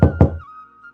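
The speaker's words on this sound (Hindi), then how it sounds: "अचानक दरवाजे पर दस्तक हुई।" Two sharp knocks on a door, close and loud in quick succession, followed by a soft fading tone.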